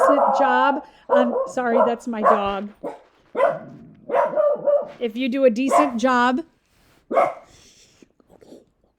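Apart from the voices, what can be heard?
dog barking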